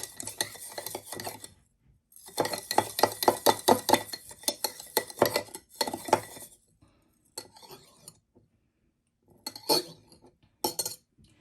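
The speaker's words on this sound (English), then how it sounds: "I'm going to take my knife. I'm going to mix." A knife stirs fenugreek in a container while making hair oil at home, giving bursts of clinking and scraping against the sides, separated by short pauses and ending in brief, sparse taps.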